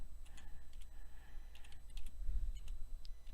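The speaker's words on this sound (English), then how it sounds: "the slowest part of this process for me is my typing" Rapid typing on a computer keyboard, a close, dry run of uneven clicks and taps with short pauses between bursts.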